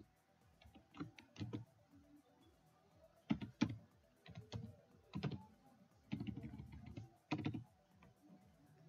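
Typing on a computer keyboard while writing HTML code, soft close key clicks in short irregular bursts separated by brief pauses, with no talking.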